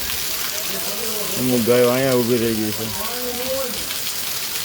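Steady rain hisses over a village where cows shelter under trees, a continuous wash of noise throughout while someone talks over it in the middle.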